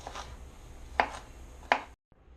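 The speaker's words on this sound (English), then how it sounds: "Quarter of just a regular yellow onion here. Chop that up fine." Knife blade striking a cutting board as a quartered yellow onion is chopped, two or three crisp, separate chops spaced apart, quiet and close, ending in sudden silence.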